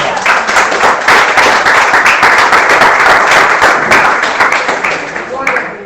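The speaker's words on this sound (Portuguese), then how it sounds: "Você pode aplaudir o Senhor Jesus mais uma vez?" Dense, sustained applause from a crowd, steady and loud throughout with a slight fade toward the end.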